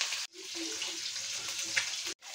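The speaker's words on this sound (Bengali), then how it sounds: "আর তেলে দিতেই এটা ভীষণ ফাটছে" Pabda fish spluttering and crackling in hot mustard oil, a dense steady sizzle broken by two brief silent gaps.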